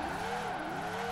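A Ferrari 599 in Forza Horizon 4 drifts with the handbrake pulled, its engine droning steadily with a faint tire-squeal edge, loud and continuous for a brief moment.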